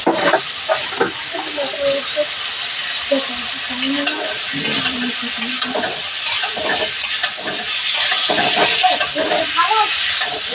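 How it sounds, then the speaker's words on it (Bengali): Vegetables fry and are stirred with spices, including coriander powder, in a home kitchen pan at night, giving a loud continuous sizzle with repeated scraping and stirring strokes while a voice talks intermittently over it. "এখন মশলাটা ভালো করে সবজিটা কষানো হবে"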